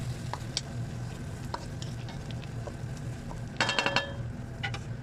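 Tomatoes go into onions frying in a pan for a Pakistani potato and bitter gourd curry, with a soft continuous sizzle under scattered spoon scrapes and a short burst of louder stirring clatter near the end.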